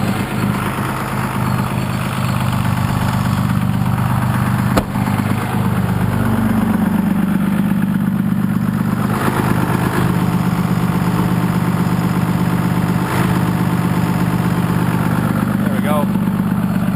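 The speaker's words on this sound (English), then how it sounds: "You can hear it pulsing on the motor." 6.2L Cummins diesel idling steadily up close, its low rumble pulsing from a faulty exhaust brake switch whose loose unsoldered wires vibrate; a brief click near five seconds, with a faint voice now and then.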